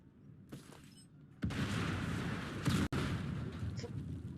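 A sharp burst of gunfire in the video game Modern Combat 5 erupts into a sustained, roaring volley, with a brief cutoff and then continued rumbling blasts.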